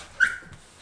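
A dog gives a single short, close bark or yip, brief and alone against quiet.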